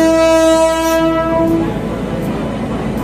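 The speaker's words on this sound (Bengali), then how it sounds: "কাঞ্চনজঙ্ঘা এক্সপ্রেস।" The Kanchenjunga Express sounds a loud, sustained horn blast up close, fading into the rumbling roar of the passing train.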